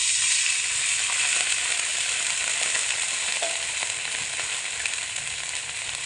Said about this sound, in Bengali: যখন পেঁয়াজ আর রসুন একটু ভাজা ভাজা হয়ে যাবে সেই মতো অবস্থায় এখানে খুব সামান্য করে একটুখানি জল দিয়ে দেব।